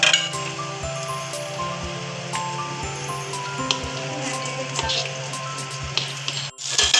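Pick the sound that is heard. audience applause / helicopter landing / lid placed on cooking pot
lid placed on cooking pot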